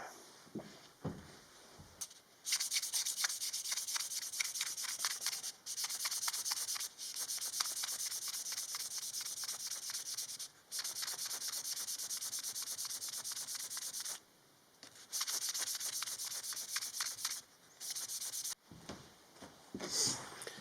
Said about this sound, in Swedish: nu ska jag putsa det här med superfint sandpapper